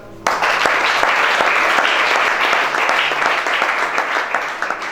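A church congregation applauds during a deliverance service, dense sustained clapping starting abruptly and continuing loudly throughout, with faint voices underneath.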